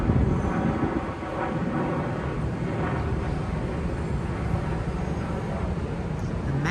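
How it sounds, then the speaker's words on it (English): Small domestic propeller airplane passing overhead in Japan, a loud continuous broadband engine drone filling the whole stretch, with no talking. "It just looks like a small domestic plane though."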